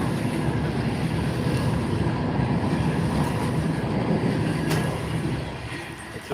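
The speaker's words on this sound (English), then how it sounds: "Just let this train go past." A train rolls past in a loud continuous rumble and roar with wind buffeting the microphone, holding steady before fading toward the end.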